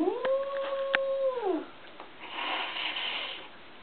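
A sustained, steady yowl from a stressed cat on moving day ends in a falling slide, followed by breathy rustling and soft shuffling noise.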